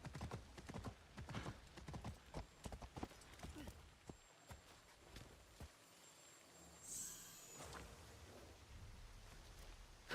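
Video game horse hooves clip-clop in a quick steady rhythm in Assassin's Creed Shadows, then slow and fade, with a brief whinny-like tone and quiet background.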